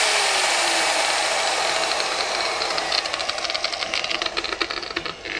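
Interskol UMP 180-1300EM car polisher whirring alone close by, its electric motor whine winding down in pitch and then turning into a rougher, pulsing rattle.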